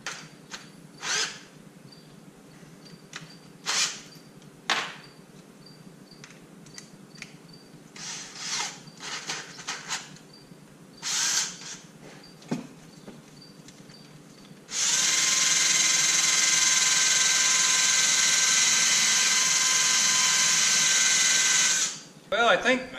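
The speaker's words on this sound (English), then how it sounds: "Try my other drill." An electric drill fitted with a polishing attachment whirs loudly and continuously for several seconds, after scattered clicks, knocks and handling sounds.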